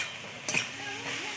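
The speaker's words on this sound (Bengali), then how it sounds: "আলু বেগুন আর শামুকটা ভাজা হয়ে গেছে" Snails fry with potato and eggplant in a pan, a soft steady sizzle with a brief scrape of stirring near the start, faint and close.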